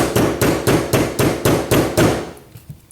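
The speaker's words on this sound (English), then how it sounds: "And then I'll just take a small hammer, and I'll just tap on it." A small hammer tapping a pistol thumb safety while fitting it, nine sharp metallic taps in an even rhythm, close and loud, then a few softer handling knocks.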